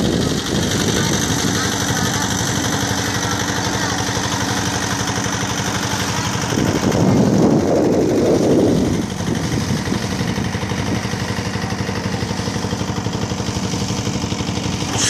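A passenger boat's engine runs steadily on the haor waters of Sunamganj, Bangladesh, with a loud, constant mechanical drone. A brief murmur of voices rises midway.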